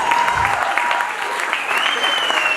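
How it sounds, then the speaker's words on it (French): An audience at a comedy club breaks into dense, continuous applause, loud and close, with a voice faintly audible underneath. "On applaudit"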